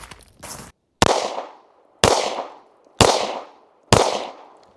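Four sharp pistol shots from a Smith & Wesson M&P Shield Plus with a red dot, fired about a second apart in a steady cadence, each loud crack followed by a short decaying ring, with a brief rustle before the first shot.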